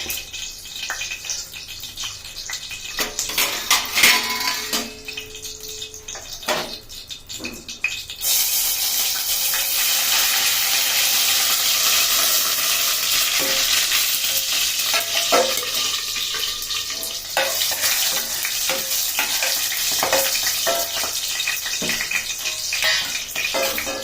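Soaked tempering spices hit hot oil in a home kitchen pan, raising a steady, fairly loud sizzle and crackle that swells after a quieter start with some stirring clatter and keeps going without talk.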